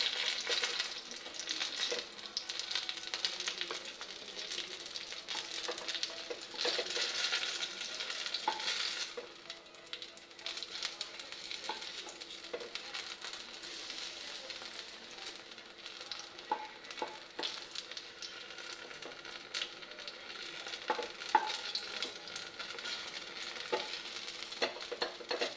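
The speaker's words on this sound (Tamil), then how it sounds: "இப்போ கத்திரிக்காய் வந்து நல்ல ப்ரௌனிஷ் நல்லா வறுபட்டுருச்சுங்க" Eggplant pieces fry in oil in a pan with a continuous crackling sizzle, louder early on and easing later, with occasional utensil clinks and stirring scrapes, no voices.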